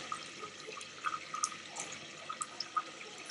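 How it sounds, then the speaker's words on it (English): Cut fennel and celery battens are rinsed under a running kitchen tap, giving a steady, soft hiss of flowing water with small irregular splashes and drips, close and quiet, without talk. "Give them another quick wash."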